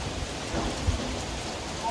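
A sudden rain shower comes down on a sunny day in Switzerland, making a steady, dense, fairly loud hiss of falling rain with no letup and only faint traces of voices.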